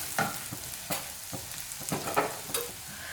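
Sliced onions frying in a pan for Kerala-style egg curry, a soft sizzle under a quick run of spatula scrapes and taps against the pan, close and fairly quiet, with no speech.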